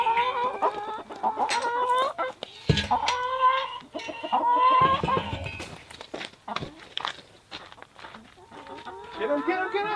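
Chickens cluck and squawk near a coop door, with rapid irregular calls close by, mixed with people talking.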